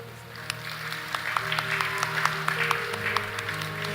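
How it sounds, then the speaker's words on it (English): An audience at a night of Navratri celebrations claps in a warm, sustained round of applause, many hands patting unevenly at moderate loudness, with a hum of voices underneath. "Give yourselves a clap."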